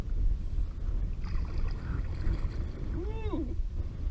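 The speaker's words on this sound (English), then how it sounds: "Waves are rolling pretty good now." Sea waves wash and slap against a kayak out on open water, a constant, close rushing of water with wind noise, and a voice calls out briefly near the end.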